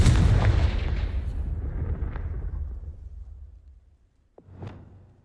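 A fiery Confringo blast spell from the Hogwarts Legacy video game booms loudly and rumbles away over several seconds, followed by a second, shorter blast near the end.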